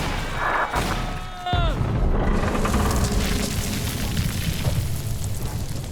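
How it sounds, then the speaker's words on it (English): Explosive charges detonating in the video game BioShock 2, a deep rumbling boom that swells and rolls on for several seconds after a short tonal sweep, loud and sustained. "Mother's people are starting to detonate the charges."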